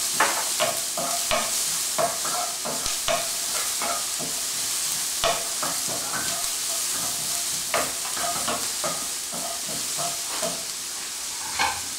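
Red onions and red chili flakes sizzle loudly in a hot pan with a steady frying hiss, broken by repeated clinks and scrapes of stirring.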